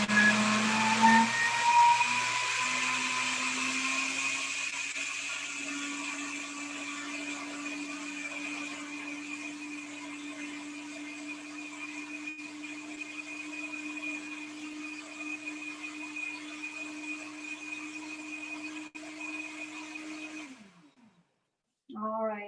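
Countertop blender runs continuously to purée gravy smooth, a loud steady motor whir that holds for about twenty seconds before cutting off, with a voice briefly heard at the end.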